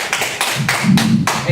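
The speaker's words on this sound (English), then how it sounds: "Y'all are such wise congregants clapping for me." A church congregation claps together in a brisk run of hand claps, loud and close, with some crowd murmur mixed in.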